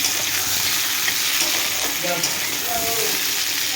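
Steady, dense sizzling of potatoes frying in hot oil, continuous throughout with a few brief crackles and faint scraping, no voices.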